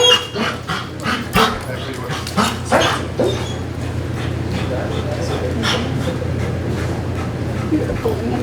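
A police K9 dog whimpers and gives several sharp barks and yips in the first few seconds, close and loud, then settles over a steady low hum with a handler's voice speaking.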